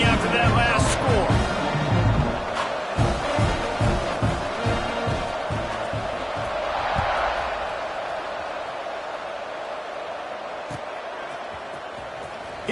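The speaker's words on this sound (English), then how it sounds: "this crowd is buzzing after that last score" Stadium crowd at a football game buzzes with a dense, steady roar of chatter and cheering right after a touchdown, loud at first and settling slightly, with scattered thumps and an announcer talking over it.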